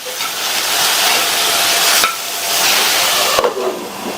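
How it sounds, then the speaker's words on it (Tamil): Ridge gourd poriyal being stirred in a pan, a loud continuous sizzle with scraping and a couple of sharp knocks of the spoon against the pan. "உப்பு சேர்த்துட்டு மறுபடியும் ஒரு தடவை மிக்ஸ் பண்ணி விட்டுறலாம்."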